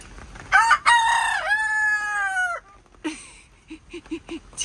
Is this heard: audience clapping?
no